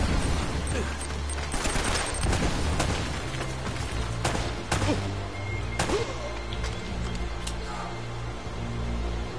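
Grenade blasts and gunfire in Uncharted: Drake's Fortune form a dense, continuous clatter of shots with a few heavier booms, loud throughout with no speech.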